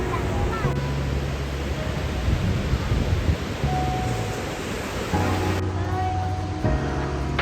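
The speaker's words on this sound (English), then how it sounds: "Those waves from this distance, they don't look bad, but man, they're unrelenting" Ocean waves breaking at Manly Beach in Sydney, heard as a continuous, loud wash of surf. Voices and bits of other sound sit on top of it throughout.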